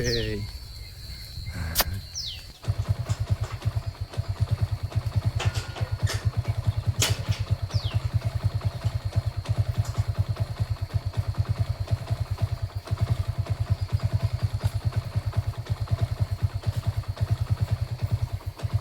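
A motorcycle engine idles nearby with a steady, rapid putter, running continuously after a brief quieter start with some faint background noise.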